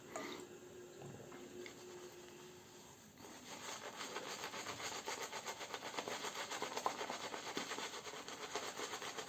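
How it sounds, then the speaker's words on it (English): A toilet cistern makes a faint, continuous watery hiss that grows louder and rougher partway through, with no voices. "little thing over the toilet is making some sounds"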